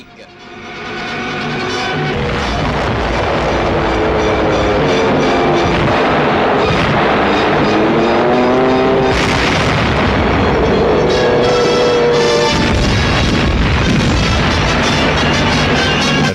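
WWII artillery fire and explosions in the battle for France, a loud sustained rumbling barrage with booms layered over one another and a faint mechanical drone beneath, continuous for over fifteen seconds.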